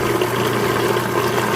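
A food processor runs steadily, mixing white cake batter, with a continuous mid-pitched motor hum that holds even and unbroken throughout, close and moderately loud with no talking over it.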